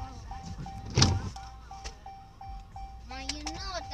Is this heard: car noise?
yes